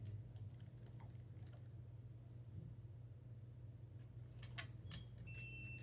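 A short electronic training beep used to call a dog named Ronan sounds near the end over a quiet room with a low steady hum.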